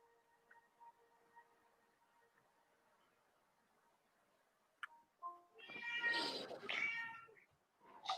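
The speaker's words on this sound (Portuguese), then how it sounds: "os gatinhos falando, né? Os gatinhos." Kittens meow in a small cluster near the end, two or three close, fairly loud cries after a long stretch of faint, quiet background hum, with no talking.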